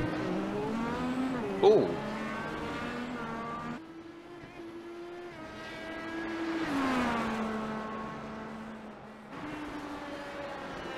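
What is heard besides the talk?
race car driving on track at Barber Motorsports Park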